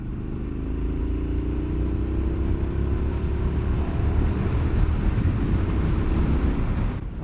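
Triumph Street Scrambler 900 (2020) motorcycle at riding speed, its engine drone steady and heavily buffeted by wind rush throughout, with no voices.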